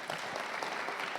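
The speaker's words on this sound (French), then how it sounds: "Marc Benioun, mille merci, c'était formidable, on peut l'applaudir." Audience applause at the close of a talk on gas and electricity prices, a steady wash of clapping with no speech over it.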